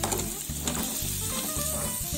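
Spring onion sizzling in a hot frying pan for a beer chicken dish, a dense close hiss with a few quick utensil stirs.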